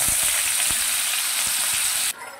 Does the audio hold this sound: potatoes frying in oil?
yes